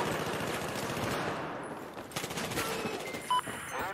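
Machine gun fire in the video game Battlefield 4, rapid bursts of shots crackling through a busy, dense game soundscape with no voices, fairly steady in level and louder near the end.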